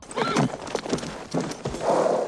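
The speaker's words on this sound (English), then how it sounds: "His horses aren't used to saddles." Horses from the 1992 western film Unforgiven whinny and their hooves clip-clop across a short film scene. Two or three bursts of neighing sit close and loud, with the final whinny the longest.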